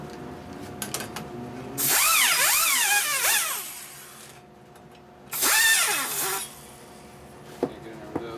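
Rotary tool bit grinding the ports of a 1965 Harley-Davidson Panhead cylinder head, two loud high-pitched whining bursts of about two seconds and one second, pitch wavering as it cuts, separated by quieter pauses.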